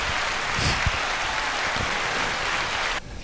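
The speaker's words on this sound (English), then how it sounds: "Please give a round of applause," A comedy-show audience claps loudly and steadily for about three seconds in a dense, continuous burst that cuts off abruptly at the end.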